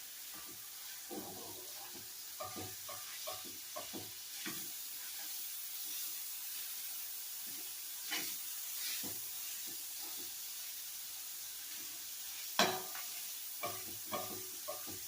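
Fish being broken apart and fried in a pan with garlic and onions, a low steady sizzle broken by clusters of scraping stir strokes and clanks, one sharper knock near the end.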